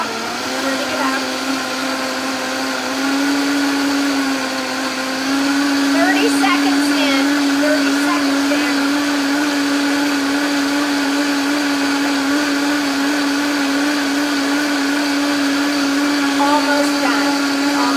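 Countertop blender with a timer grinding almonds into almond milk, a loud steady whirring drone that rises in pitch a few seconds in and holds for the full stretch, with a voice briefly speaking over it.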